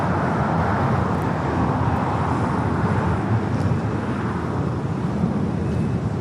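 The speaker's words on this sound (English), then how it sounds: "We do have Aeromexico Dreamliner heading to 24 left for a departure back to" A large twin-engine Aeromexico Boeing 787-8 Dreamliner taxies toward its departure runway at Los Angeles International Airport, a steady broadband engine rumble and whoosh holding at an even level throughout.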